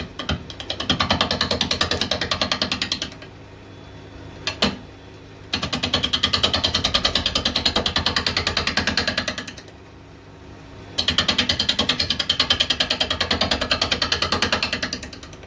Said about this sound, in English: Some of the weight's been taken off now, so we're turning at about 600 RPM.